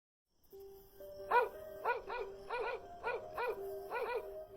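Dog barking picked up on a security camera recording: a run of about seven evenly spaced barks over a steady tonal hum, moderately loud and slightly distant, with no talking.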